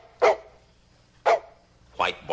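A dog in a film scene gives three short, sharp barks, evenly spaced about a second apart, close and clear against quiet.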